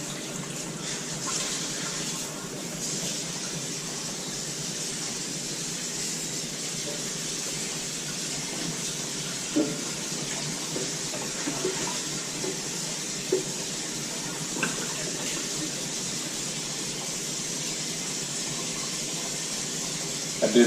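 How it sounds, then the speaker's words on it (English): Water runs steadily from a tap into a kitchen sink while dreadlocks are rinsed of dirty water, a constant close hiss with a few light splashes and knocks and no talking. "We're going to rinse out as much of that dirty water that we can."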